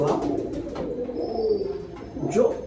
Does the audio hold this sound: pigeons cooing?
yes